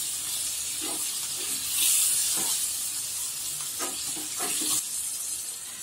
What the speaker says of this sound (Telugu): వీటిని కొంచెం ఫ్రై చేసుకోవాలి